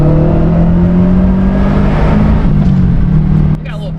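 A car engine revs hard and steadily as it accelerates up an on-ramp, loud and continuous for several seconds before easing down, with a voice talking over it.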